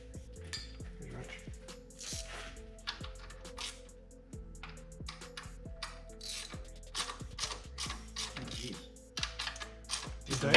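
A wrench ratchets and clicks while loosening engine valve adjusters on a car, with repeated metallic clicking and clinking up close as the work continues and a voice talks faintly underneath.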